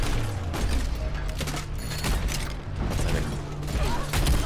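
A grenade explodes during a frantic Overwatch firefight, a close, heavy boom buried in dense layers of rapid gunfire and mechanical game noise that keep the whole stretch loud and busy.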